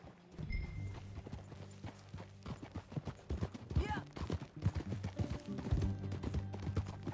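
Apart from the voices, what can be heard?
horse hooves galloping while riding in Red Dead Redemption 2 video game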